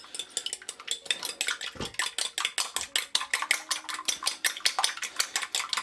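Egg whisked briskly in a bowl for peanut butter cookie dough, a steady fast rhythm of close metal clicks against the bowl with no talking.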